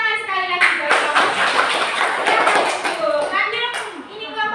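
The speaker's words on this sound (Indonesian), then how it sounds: "Kasih tepuk tangan sekali lagi buat kamu." A group of children applaud together in a classroom, dense continuous clapping mixed with excited young voices calling out over it, loud and close throughout.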